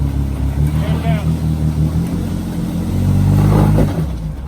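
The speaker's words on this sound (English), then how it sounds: "Exhaust is in the water." An off-road vehicle engine rumbles and revs with a low, bubbling exhaust note from its exhaust submerged in water, steady then rising briefly, with faint voices and wind in the background.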